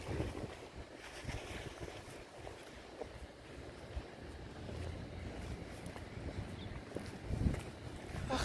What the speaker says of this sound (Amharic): ንፋሱ ማለት ነው።